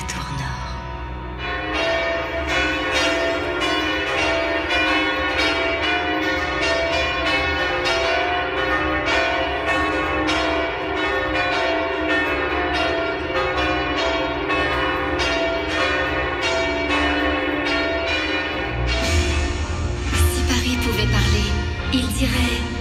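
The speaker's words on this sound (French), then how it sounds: "à l'appel des cloches de la tour nord" Church bells ring from the north tower of Notre-Dame cathedral in Paris, a dense, continuous peal of overlapping tolls that fills the whole stretch, swelling slightly louder toward the end.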